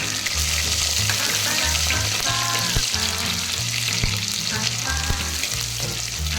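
Chopped small onions (shallots) fry in oil in a pan after whole spices, giving a dense, continuous sizzle with steady hiss and stirring scrapes, close up, loud and unbroken throughout.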